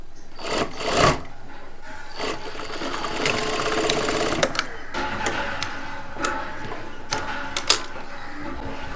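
A domestic sewing machine stitches the top edge of a kurta seam in short, light runs of rapid needle clatter, close up, separated by pauses with faint handling clicks.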